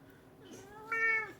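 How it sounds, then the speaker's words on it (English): An old deaf male cat gives a loud, drawn-out meow with rising and falling pitch, growing louder toward the end, close by with faint room noise and no talk. "This is my deaf old man cat, who meows incredibly loud because he can't hear himself."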